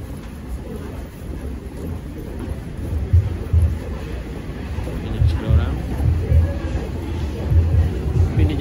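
Busy train station in Japan at transfer time: low rumbling crowd hubbub and indistinct chatter with deep thumps of movement, a dense and steady ambience heard from within the crowd.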